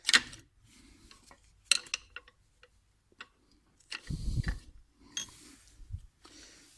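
Light metallic taps and clicks ring out sparsely as a BMW front brake pad is gently tapped and worked loose from the caliper, with short pauses and a dull knock between the sharper ticks.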